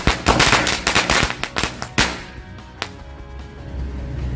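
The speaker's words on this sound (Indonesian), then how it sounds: "Untuk yang pertama kita nyalakan 4 pak mercon korek Smoke Aladdin" Strings of Smoke Aladdin match-lit firecrackers burst in rapid, uneven crackling volleys, loud and close, then thin out into a few scattered pops over a hissing tail.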